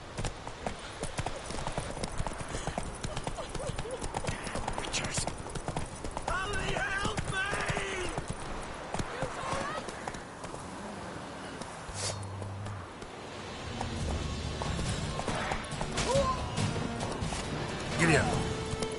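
A horse gallops in The Witcher 3 video game, with rapid rhythmic clip-clop hoofbeats running throughout, close and clear, and an occasional whinny.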